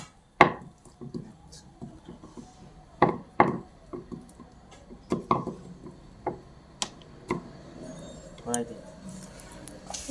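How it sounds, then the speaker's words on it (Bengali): Lachha paratha dough is rolled out on a board, producing irregular wooden knocks and taps from the rolling pin, some sharp and close, with quieter scraping between them and voices in the background. "আমাদের পরোটা বেলা হচ্ছে"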